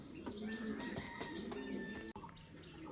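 A pair of fancy Maltese pigeons at a pigeon seller's gives faint, soft chirps and short calls, with a brief tapping click, all quiet and close by.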